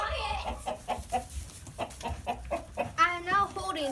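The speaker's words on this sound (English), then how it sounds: "I am now holding Sabrina's chicken" A pet chicken clucks in a series of short, close, rhythmic calls, ending in a longer drawn-out squawk, with a voice briefly heard in the background.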